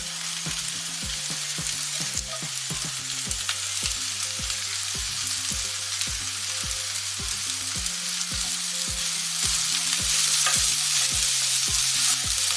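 Chopped bitter gourd frying with onions in a pan for a Kerala curry, a loud continuous sizzle throughout, with a regular low ticking pattern underneath and no voices.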